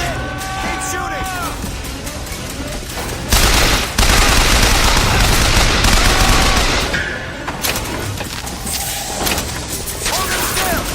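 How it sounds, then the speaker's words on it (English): Gunfire rattles through a BioShock Infinite firefight, dense bursts of shots and booms filling the scene loudly and continuously while voices shout over the combat. "Keep shooting!"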